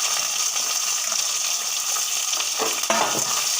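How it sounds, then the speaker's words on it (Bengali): Onions frying in a pan of oil with cumin and bay leaf give a steady, close sizzle, with a brief scrape of stirring near the end. "পেঁয়াজটা একটু হালকা ভাজা হয়ে যাবে"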